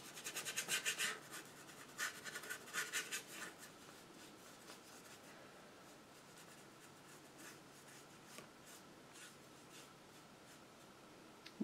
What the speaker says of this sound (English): I'm just scrubbing off whatever I got left on my brush there.